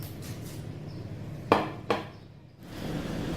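Rolls are set down on a plate, giving two sharp clinks of dish contact close by, over a low background hum in a quiet kitchen.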